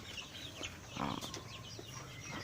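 Four-week-old Hisex Brown laying hen chicks cluck and chirp softly in a few short calls, faint and fairly close, with a brief flutter of wings in the middle.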